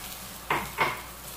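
Rice tossed into a pan with lightly browned garlic gives two short, close scraping sizzles about a third of a second apart, with quiet kitchen background between them.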